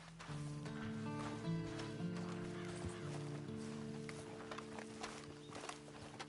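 Steady clip-clop of horse hooves in the video game Red Dead Redemption 2, under a droning backdrop of sustained tones, with a few faint bird-like honks mixed in.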